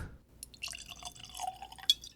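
Whisky poured into a glass during an Ardbeg Smokiverse tasting, a short liquid trickle with dripping and a faint glassy clink near the end, heard up close with no talking.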